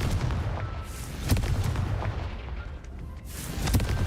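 Confringo, the explosive fire spell in the video game Hogwarts Legacy, goes off as several booming bursts in quick succession. Each blast is loud and sharp with a rumbling tail.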